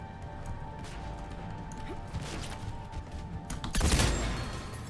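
Gunfire in Mass Effect 3, scattered shots under a steady game hum, capped by a loud close crashing blast near the end.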